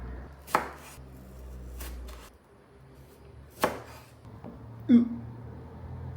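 A knife chops through a tomato on a board in a few sharp, separate cuts spaced several seconds apart, close and crisp over a quiet background.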